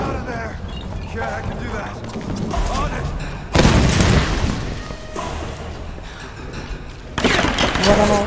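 Explosions and gunfire in the Tomb Raider video game, a dense run of booms and bursts of shots with loud blasts, under excited talk from a player.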